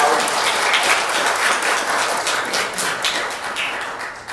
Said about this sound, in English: receive the applause of this grateful crowd